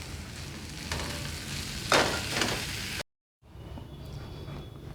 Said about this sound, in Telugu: ఈ కొబ్బరి అదంతా మనం గ్రైండ్ చేసి పెట్టుకున్నాం కదా అది వేసేద్దాం వేసేసి కలిపేసుకుందాం